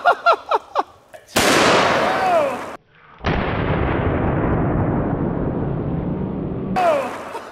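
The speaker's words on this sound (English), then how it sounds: "we're gonna shoot the one on the right with a 500 Magnum" A .500 Magnum revolver is fired at a brick outdoors, producing sharp, loud booming blasts with long decaying rumbles, preceded by a few quick pops and followed by short exclamations from a voice.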